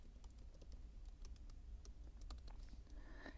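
Keys clatter on a computer keyboard in a run of quick, irregular taps, faint and close against a quiet background.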